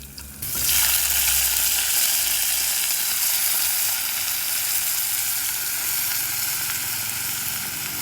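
Ingredients for Filipino pakbet browning in a pan hit the hot oil with a sudden loud sizzle, then settle into a steady, close, bright frying hiss, with no voices.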